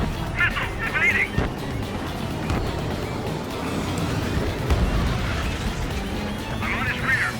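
In the video game Ace Combat 7, missiles streak toward a jet with rushing engine roar and dull explosive bursts, a steady loud bed under voices.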